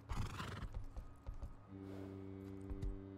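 A horse in the survival game Rust gives a clear whinny, with hoof clip-clops around it, heard close and alone.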